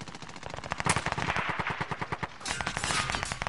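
Rapid automatic gunfire from a PS4 video game rattles in dense, continuous bursts, loud and close, with a brief lull before another sustained volley.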